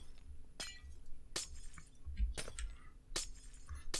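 Glowstone blocks breaking in the Minecraft video game, four sharp glassy shattering crunches spaced about a second apart over a quiet background, with no talk.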